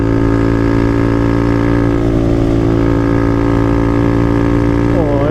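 A loud, steady dirt bike engine rumbles nearby, its exhaust droning continuously with a brief rising rev at the end.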